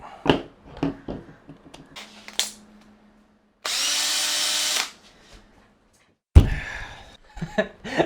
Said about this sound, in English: I've already resorted to the drill